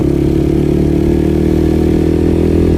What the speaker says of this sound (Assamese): বাইকৰ চাউণ্ডডাল একদম বৃহৎ দি আছে